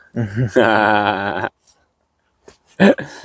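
Dogs whine and moan excitedly as they crowd around a visitor at a carp fishing camp, long drawn-out vocal whimpers close by, then quiet before short yelps return.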